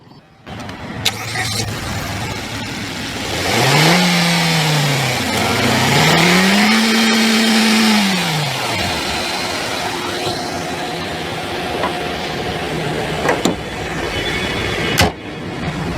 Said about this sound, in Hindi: ये थी 1200 सीसी पेट्रोल इंजन की साउंड।